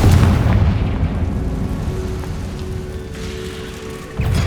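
A Confringo fire spell blasting in the Hogwarts Legacy video game, a loud booming explosion with a rumbling tail that dies down, then a second burst near the end.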